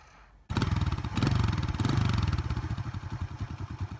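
A used motorbike engine starts abruptly after a quiet moment, then runs loud and close with a steady, chugging idle rhythm, with a brief rev in the middle.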